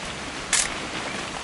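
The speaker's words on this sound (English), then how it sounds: "Just want to get a shot of you, Dawn, then we can take off." A single quick camera shutter click, close and crisp, over a soft steady background hiss.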